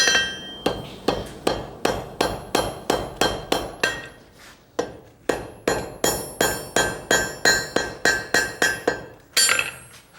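A blacksmith hammers hot metal to forge weld it, a long run of loud, evenly spaced ringing blows close by with one short pause midway, no voices.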